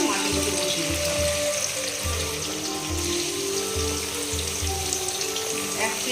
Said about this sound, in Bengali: তেলের ভিতরে মাছগুলোকে বসিয়ে দিতে হবে।